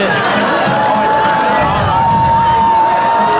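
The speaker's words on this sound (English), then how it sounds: "And the crowd's getting into it." A crowd cheers and shouts in the stands at a high school football game between Timpview and Skyridge, a dense, loud roar of voices with whoops and a thin whistle-like tone running through it.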